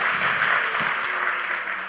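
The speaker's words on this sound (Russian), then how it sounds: "Давайте поприветствуем его аплодисментами." Audience applause welcoming a pastor at a church service, a steady dense wash of clapping that holds evenly throughout and tapers slightly at the end.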